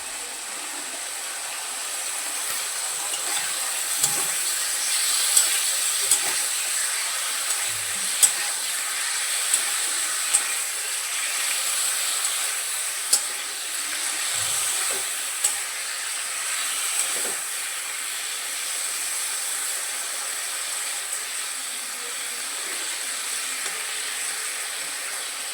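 Flat beans fry with turmeric in a pan, giving a long, even sizzle and hiss with occasional faint clicks and light stirring sounds.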